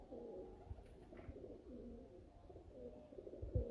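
Red main breeder pigeons coo softly and repeatedly, low rolling throaty calls in a quiet setting with faint background noise and occasional small knocks.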